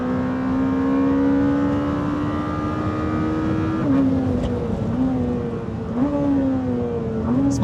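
A Lamborghini Temerario pulls hard at full throttle, its steady engine tone climbing with brief dips at gear changes, loud and close throughout with no talking.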